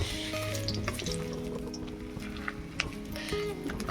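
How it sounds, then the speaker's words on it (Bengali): Potatoes and cauliflower stalks fry in a pan with a steady close sizzle, joined by faint clinks and a soft low background hum throughout. "কফি ডাঁটাগুলো দিয়ে আলুগুলো দিয়ে একটু ভাজা করে নিচ্ছি"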